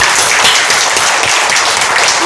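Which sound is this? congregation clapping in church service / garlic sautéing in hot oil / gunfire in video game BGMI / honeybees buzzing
congregation clapping in church service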